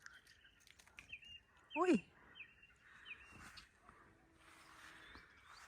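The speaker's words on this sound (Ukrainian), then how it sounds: "А пташки все ще не лягають спати." Faint, scattered chirps of birds in village trees at dusk in spring, with one clearer call rising above a quiet outdoor background.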